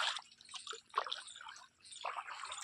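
Irrigation water from a borewell flows into a field where coriander is grown, making faint, uneven trickling and splashing with short pauses, quiet and close.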